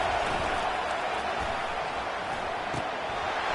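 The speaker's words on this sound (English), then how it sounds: "The crowd getting behind this defense as they try to get a stop in the red zone." A football stadium crowd roars steadily as the home fans get behind the defense during a red zone stand, a dense, unbroken wash of distant cheering that holds at an even level throughout.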